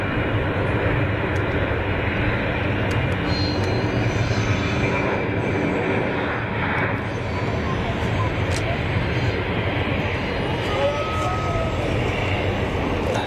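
Boeing 737 jet at Zurich Kloten Airport, a loud, sustained engine roar that holds steady throughout, heard from nearby at the airfield with no talk over it.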